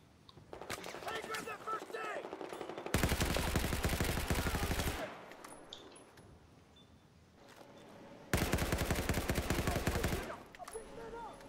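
G18 pistol gunfire in Battlefield 4, heard as two long bursts of rapid automatic shots, loud and close, with scattered single shots and game noise between them.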